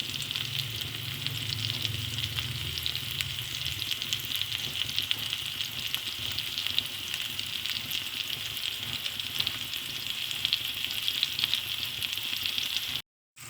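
Tofu pan frying in oil, a constant crackling sizzle, moderately close and even, running alone with no talk before cutting off abruptly at the end.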